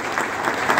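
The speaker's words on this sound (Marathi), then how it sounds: "एकदा जोरदार टाळ्या गदा घालून स्वागत" An audience at a Buddhist Dhamma gathering in Nashik breaks into loud, dense applause, a continuous wash of many hands clapping with slight swells, close and filling the space.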